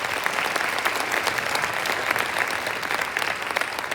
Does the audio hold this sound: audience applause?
yes